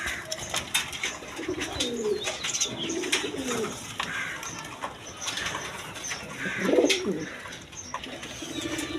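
Bokhara pigeons coo softly in low, rolling phrases, a few separate calls spread across the clip with a louder burst near the end, over faint background noise.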